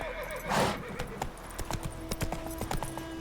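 Geralt's horse Roach galloping in The Witcher 3: Wild Hunt, with rapid clip-clopping hoofbeats close by, a burst of breathy snorting or whinnying early on, then steady rhythmic hoof strikes.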